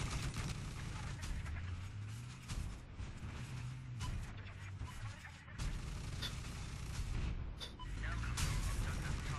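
Rockets fire in the video game Battlefield 4, a series of booming blasts and explosions over continuous battle noise, with a voice talking over the action.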